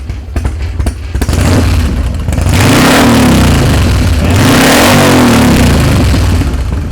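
A 2003 Harley-Davidson FXD Dyna Super Glide with 56,000 miles runs close by, idling with a lumpy rumble before being revved into a loud, sustained roar.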